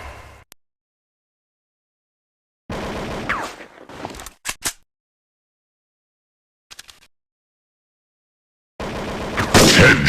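Shotgun fire in the mobile shooter Counter Terrorist Strike, several short bursts of loud blasts separated by stretches of total silence, ending with a dense, heavy barrage.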